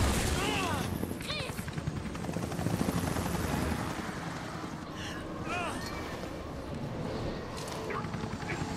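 A helicopter in the video game Resident Evil Revelations gives off a steady rotor roar, with gunfire bursts and game sound effects layered over it and a voice talking at times.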